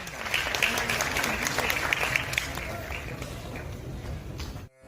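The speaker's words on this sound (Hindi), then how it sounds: "तालियों के साथ स्वागत" An audience at a memorial ceremony honoring saints gives a welcoming round of applause, dense and continuous crowd clapping with a faint murmur beneath, ending abruptly near the close.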